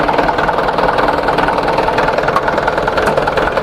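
The engine of a Mitsubishi Canter 10-ton dump truck idles in a steady, even rumble with a rapid mechanical clatter, close and loud throughout with no talking.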